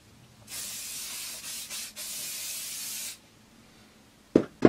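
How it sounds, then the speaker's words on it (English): VO5 Ultimate Hold weather resistant hairspray being sprayed onto hair while styling: a close, steady hiss lasting several seconds with a couple of brief breaks, then a few soft handling knocks. "I'm using the VO5 Ultimate Hold weather resistant hairspray."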